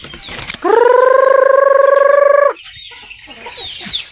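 A farm chicken gives one loud, close, drawn-out call lasting about two seconds, with rustling and faint background noise before and after.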